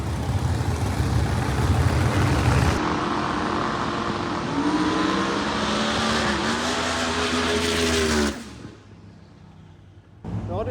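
A drag racing car makes a full run at Tierp Arena, its engine roaring loud and steady, then rising in pitch through the gears before cutting off abruptly into near silence.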